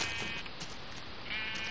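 Sheep in the Minecraft video game bleat, a faint wavering tonal call heard near the start and again near the end over a steady noisy background.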